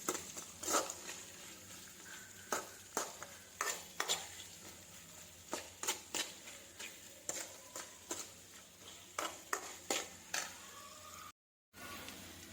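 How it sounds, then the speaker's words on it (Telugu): Poha seasoning with a pinch of turmeric being fried and stirred in a pan over a low flame: soft sizzle underneath with repeated sharp scraping clicks of a spoon against the pan, moderately quiet, no voices. "లో ఫ్లేమ్లో పేల్ ఎల్లో కలర్ వచ్చే విధంగా దీన్ని ఫ్రై చేయాలి."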